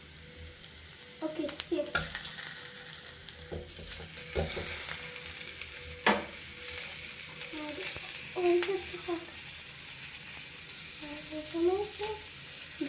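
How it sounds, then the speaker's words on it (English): Tomatoes hit hot oil in a pan of paneer curry, giving a steady loud sizzle and frying hiss with intermittent stirring scrapes across the whole stretch, while a few brief words are spoken over it. "Now it's time to add tomatoes."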